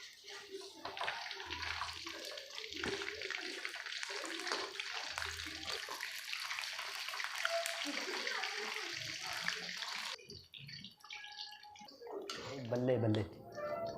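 Soaked besan bade are squeezed by hand, letting water splash and drip into a bowl in close, wet bursts while a voice talks intermittently.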